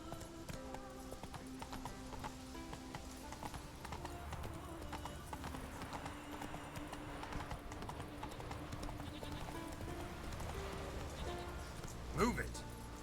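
A horse's hooves clip-clop at a steady trot while being ridden in The Witcher 3, a faint, even rhythm that continues throughout beneath game ambience, with a brief louder accent near the end.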